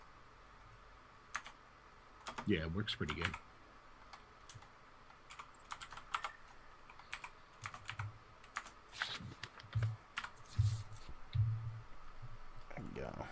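Scattered keystrokes on a computer keyboard while entering commands into a dice program, light and moderately close, with a person talking briefly and other voices murmuring in the background.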